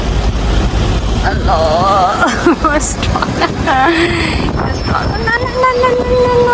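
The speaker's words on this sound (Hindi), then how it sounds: "बहुत हवा चल रही है।" Strong wind gusting outdoors in Helsinki city centre by a bus stop, a steady low buffeting rumble that runs through the whole stretch beneath someone talking nearby.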